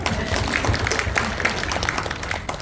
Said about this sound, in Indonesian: Tepuk tangan dulu di bawah.